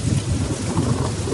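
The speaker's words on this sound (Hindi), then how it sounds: "फिर जोरों की बारिश शुरू हो गई।" Heavy rain pours in a dense, continuous hiss with a low rumble of thunder underneath, steady and loud throughout.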